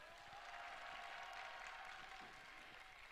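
Applause from a crowd at an outdoor student cultural festival commemorating the May 18 uprising, a steady distant wash of clapping, faint and even with no speech over it.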